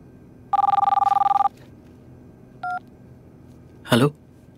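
A telephone gives one long burst of rapid electronic trilling ringing, then a short second ring tone, followed by a brief rustling clatter, loud and close.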